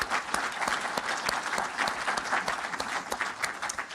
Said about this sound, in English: let's give a round of applause to IDA for hosting us